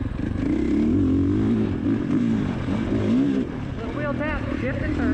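A motorcycle engine runs steadily in second gear on a ride, its drone close and loud, its pitch rising and dipping slightly with the throttle under constant wind rush.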